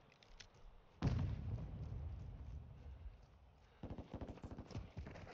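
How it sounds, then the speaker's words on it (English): A sudden loud boom erupts in a Call of Duty MW2 match, followed by a rumbling tail and later a rapid burst of sharp cracks like gunfire or firecrackers, with no talk over it. "Are you doing fireworks again?"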